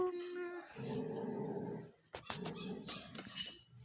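Dogs in a home yard growl and whine in rough, uneven bursts at close range, with a faint voice in the background and a brief break in the middle.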